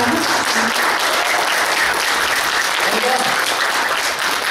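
A church congregation applauds steadily during a Sunday service, a dense, continuous clapping filling the room for several seconds with a faint voice underneath.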